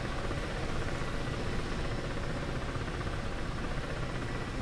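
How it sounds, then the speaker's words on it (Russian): A UH-60 helicopter in the DCS combat flight simulator drones steadily and close, its rotor and turbine forming a dense, constant roar with no break. "Вертолет UH-60."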